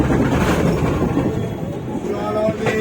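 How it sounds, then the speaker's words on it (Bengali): The Teesta Torsa Express pulling out of Naihati Junction, a loud steady rumble of the moving train heard from inside, with a voice mixed in beneath the continuous roar. "ট্রেন ছাড়লো নৈহাটি জংশন স্টেশন।"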